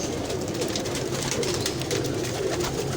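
Soft, repeated cooing of Rampuri breeder pigeons in Lahore over a constant background hum, several birds calling close by.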